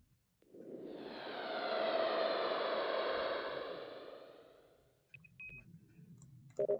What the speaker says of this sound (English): So it's the sound of a plane flying over something